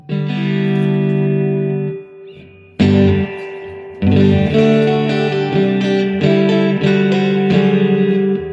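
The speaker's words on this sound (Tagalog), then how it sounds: "Ang gumagana yung reverb." An instrument amplifier with reverb switched on and bass, middle and treble set rings out loud, sustained tones, with notes struck in bursts that leave a lingering, spacious tail between hits.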